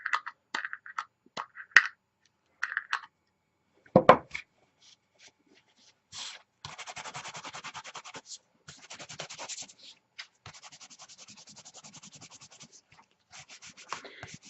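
Color is worked with a rub onto embossed card panels, heard as bursts of dry, scratchy rubbing strokes after a few light taps and knocks, close and fairly soft.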